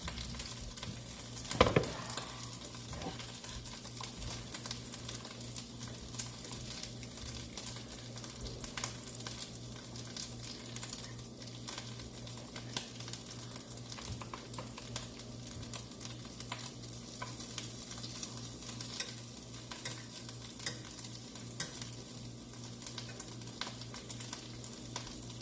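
Corned beef hash frying in a pan while a spatula moves it around, giving a soft, steady sizzle with intermittent scraping and stirring, fairly quiet and close.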